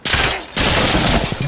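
A long-range gun in Insurgency Sandstorm fires in a loud, dense burst, a brief gap, then continued rapid shots that blur together close up.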